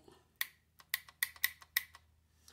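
Irrigation-controller solenoid valves run off a 9-volt battery give a series of sharp, close clicks, about seven in irregular rhythm, in an otherwise quiet setting.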